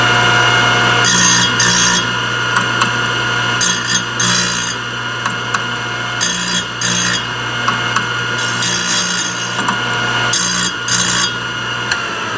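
Thorvie AV-40 grinder lightly sharpening triple-chip saw blade teeth: a loud, steady motor hum with repeated short bursts of rasping grind as each tooth is touched, heard close and alone.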